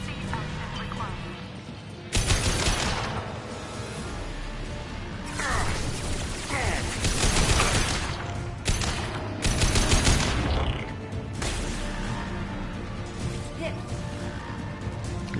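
Gunfire in the Mass Effect 2 video game: repeated bursts of shots and impacts mixed with mechanical clatter and game sounds, and voices talking in between.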